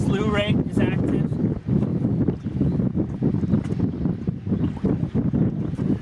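An electric speedboat runs at full throttle on open water, with loud rushing wind and water noise buffeting the microphone throughout, under someone talking.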